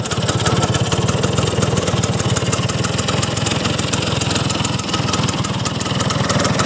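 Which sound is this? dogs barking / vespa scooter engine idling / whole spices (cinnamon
vespa scooter engine idling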